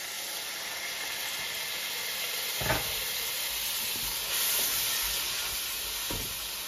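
Tomatoes sizzling in a hot pan while chicken curry cooks, a steady close hiss and crackle with a couple of soft stirring knocks, no voices.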